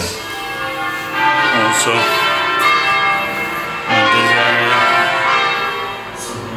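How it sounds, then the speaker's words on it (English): Church bells ring out over an Italian town in a sustained, resonant peal, with strikes swelling at the start and again midway, while a voice speaks briefly over them. "Church bells ring."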